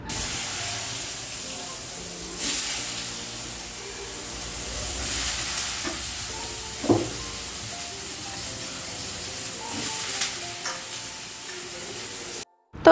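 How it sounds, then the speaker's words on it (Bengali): Potatoes fry in a pan with a low, steady sizzle and hiss at moderate distance, broken by a few soft clinks and stirring scrapes. "এদিকে একটু আলু ভাজা করে নিচ্ছি"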